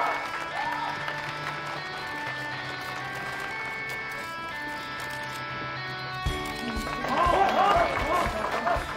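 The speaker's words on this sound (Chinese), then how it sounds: "有请出十五位美妆达人来到舞台上跟大家见面，掌声欢迎" An audience at a launch ceremony claps for beauty influencers walking on stage. Quiet background music plays first, then a burst of clapping and crowd noise swells toward the end.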